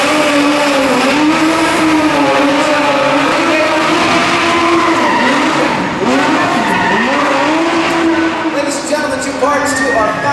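Stunt cars race and skid through Disney's Lights, Motors, Action! extreme stunt show at Hollywood Studios, engines whining loud and continuous with screeching tire slides, pitch rising and falling as they swerve, crowd and announcer noise mixed beneath.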